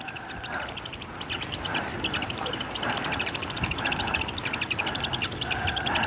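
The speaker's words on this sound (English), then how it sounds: "get out of there, stupid seagull" Seagull calls over a rocky shoreline fishing spot in Australia, repeated cries rising above steady wind and surf noise at moderate distance, no talk.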